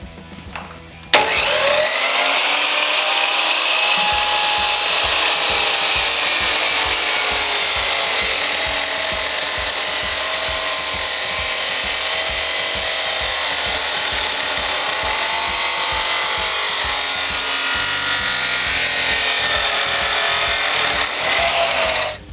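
Power tool cutting through a steel muffler pipe for a shorty muffler baffle collar on a Maxim XJ650 cafe racer build, a loud continuous grinding whine running steadily for about twenty seconds with a rapid low chatter, no voices.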